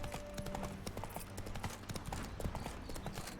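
Horse hooves clip-clop steadily at a trot across ground in The Witcher 3 video game, a continuous close rhythm of hoofbeats mixed with faint ambient game sound.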